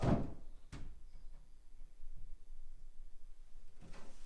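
An old pine wardrobe door is lifted and fitted into place, giving a sharp knock at the start, another soon after, then a few soft wooden bumps in a quiet room and a last thud near the end.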